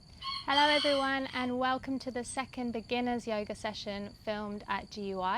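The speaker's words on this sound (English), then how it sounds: "I also have the chickens directly next to me, so apologies for the noise, they're a little bit confused." Chickens cluck and crow loudly right beside someone speaking inside a greenhouse with pumpkins and lettuce, their calls overlapping and interrupting her talk.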